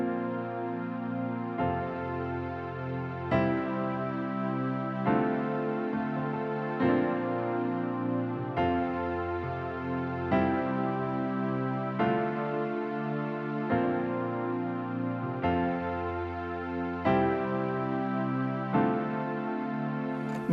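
Keyboard pre-chorus riff layered with sustained pads and strings, a series of held chords shifting every second or two in an even, moderate pulse, alone with no talking.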